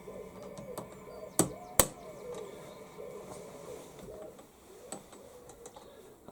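Two plastic cable clips snap onto the handle of a Hyundai HYM3200E lawnmower as two sharp, close clicks about half a second apart. Lighter ticks and handling noises surround them, with no voices.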